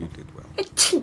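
A single sharp sneeze bursts out close by near the end, after a moment of quiet talk in the room.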